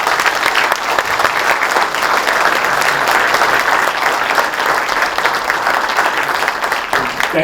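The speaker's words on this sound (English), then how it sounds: "how about a huge round of applause for our panelists?" Sustained, dense applause from a lecture audience thanking a panel of speakers after a discussion, steady and loud throughout with no gaps.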